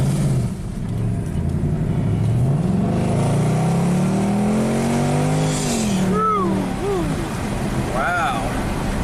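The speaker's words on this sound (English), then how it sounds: "let's see how this beast accelerates" A Mercedes-Benz AMG accelerates on an open road, its engine note climbing steadily in pitch through a long pull before rapid gear shifts, heard loud from inside the car with a voice over it.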